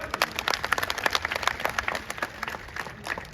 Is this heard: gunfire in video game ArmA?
no